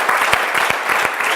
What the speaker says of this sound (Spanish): Así que ese aplauso es para ustedes también.